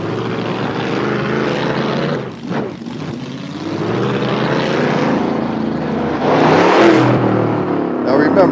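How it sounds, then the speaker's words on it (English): A 1967 Chevelle SS engine rumbles loud and close without pause, with a steady drone that swells and revs near the end. A voice is heard faintly under the engine noise. "Just want you to hear the sound of the car."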